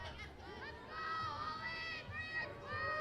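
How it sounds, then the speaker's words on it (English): Softball players in a college dugout at a GCU versus Arizona game cheer and shout for their batter, a steady stream of overlapping voices that swells midway and stays lively. "Her teammates are cheering loud for her, encouraging her"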